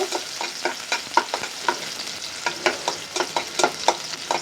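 Onions frying in oil for a dried fish and cabbage curry, a crisp sizzle broken by rhythmic spatula scrapes and taps as they are stirred, close by with no talking.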